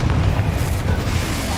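Confringo spell blast from the Hogwarts Legacy video game: a continuous, loud, low rumbling explosion that fills the whole moment with dense, roaring bass, steady rather than a single sharp crack, with no voice over it.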